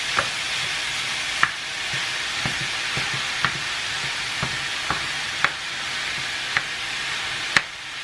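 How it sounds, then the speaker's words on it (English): Ground meat browns in its own fat in a pan for slow cooker chili, a steady close sizzle with occasional sharp scrapes and stirs of a utensil against the pan, no voices. "So we're going to brown this, and we're going to come back when it's more brown."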